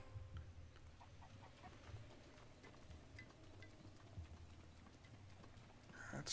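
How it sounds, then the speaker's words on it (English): Rain falls steadily in Zelda: Breath of the Wild around Kakariko village as a soft, faint hiss with light pattering, and bird-like chirps and cucco clucks sound faintly through it. "It's freaking raining."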